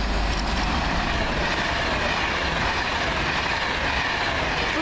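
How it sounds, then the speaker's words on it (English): A Preston service train from Euston passes through Marston Green station with a loud, continuous roar of wheels and rushing air, steady and close throughout, with no voices. "first train of the day here at Marston Green, and it is the Preston service from Euston"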